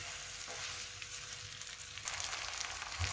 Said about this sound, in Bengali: আমি এভাবে কিছুক্ষণ ভেজে নিব সরিষা তেলের মধ্যে